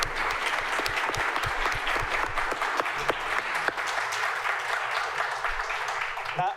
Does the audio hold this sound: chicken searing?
no